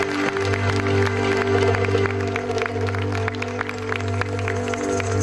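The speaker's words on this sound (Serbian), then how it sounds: "Hvala im puno i molim vas jedan veliki aplauz." Audience applause at a folk concert with an orchestra, steady clapping and some crowd noise over a sustained low hum, continuing evenly throughout.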